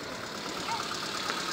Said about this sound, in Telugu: ఒకసారి ఇంజన్ చూపిస్తాను మీకు. ఇంజను పెట్రోల్ ఇంజన్ చాలా సైలెంట్గా ఉంటుందండి.